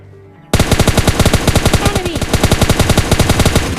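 M416 rifle firing in PUBG Mobile Lite: after a brief quiet lead-in, a loud, sustained automatic burst of rapid, evenly spaced shots runs to the end.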